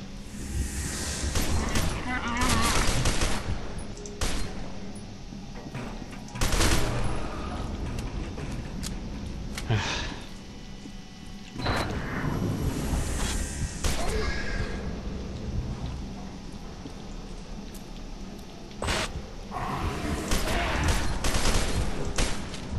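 Energy weapon gunfire in the shooter F.E.A.R. 2, loud sharp bursts repeating irregularly over a steady rumbling battle bed, with someone talking between shots.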